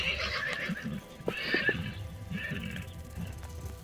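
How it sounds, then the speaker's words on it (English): A draft horse whinnies in loud bursts during a tabletop game session, with the calls rising and falling over about four seconds and a brief break partway through. "The draft horse."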